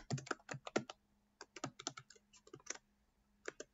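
Irregular bursts of keystrokes on a computer keyboard as a password is entered during a software installation, close and fairly quiet with short pauses between clusters of taps and no talking.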